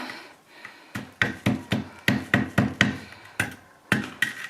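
A hammer strikes a cement flower pot to knock a hole through it, about a dozen sharp, close knocks in an uneven rhythm, some in quick pairs, with quiet scraping between them.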